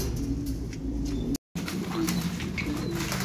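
A sick, listless pigeon coos in low, steady repeated calls close by, with a brief dropout in the middle and faint background rustling.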